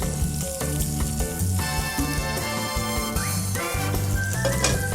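Oil heating and sizzling in a pan on the stove while cooking, a steady, loud frying hiss that runs throughout with no talk.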